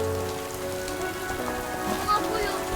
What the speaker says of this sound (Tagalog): Magsipasok na kayo, ang lakas ng ulan